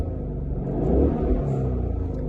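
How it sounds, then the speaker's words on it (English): A stock Ford Mustang GT engine revs once from inside the car with the window down, a low throaty rumble that swells and settles within a couple of seconds. "I'll give you a little rev with the window down."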